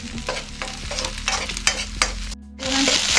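Eggs simmering in a pan as fermented fish (pla fak) is added, loud close sizzling with repeated stirring scrapes, a brief drop in the noise, then a stronger burst of frying.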